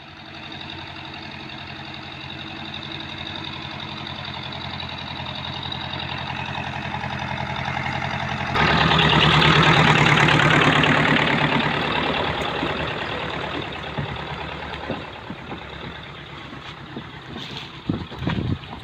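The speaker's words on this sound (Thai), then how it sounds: "เดี๋ยวเสียงรถกำลังเอาเรือมาพี่น้อง" An engine rumbles steadily at idle, then grows louder and rougher about halfway through before settling, with a few faint knocks near the end.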